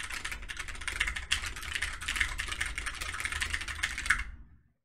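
Typing on a Moonlander split keyboard with magnetic parts, a steady run of close, fast key clicks and clacks that continues without pause for several seconds and then stops abruptly.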